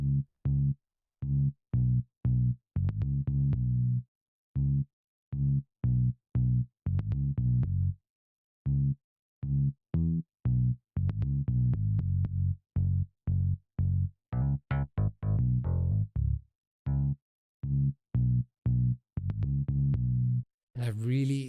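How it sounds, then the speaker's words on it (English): Bass guitar part of a song played on its own: a steady run of short, punchy plucked notes with brief gaps, rhythmic and clear, with no talking over it. "this is what the bass sounds like alone"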